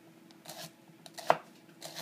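A grandmother chops onions on a board, a few quiet scattered knife taps and scrapes with one sharper cut, faint and close.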